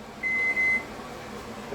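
A microwave oven reheating keema gives two short electronic beeps in quick succession, clear and close, over a low steady hum.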